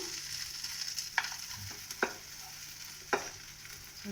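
An egg-stuffed bell pepper fries in a pan after being flipped, giving a soft steady sizzle with a few sharp clicks and taps from the utensil, close and quiet.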